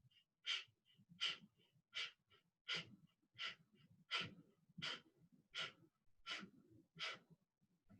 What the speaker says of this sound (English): you inhale and exhale forcefully through the nostrils like this